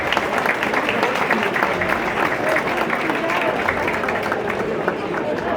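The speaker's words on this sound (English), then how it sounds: "please give yourselves a round of applause" A large brunch audience at a St. Patrick's Day parade event applauds loudly and steadily, dense continuous clapping with a faint crowd murmur underneath, sustained throughout.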